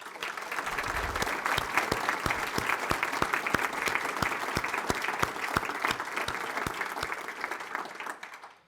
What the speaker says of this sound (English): I want us to give you a round of applause.